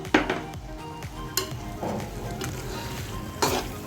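Pink sauce pasta with pasta mix gets stirred in a pan, soft scraping and gentle sizzling broken by a few sharp clinks of a utensil against metal, close and fairly quiet.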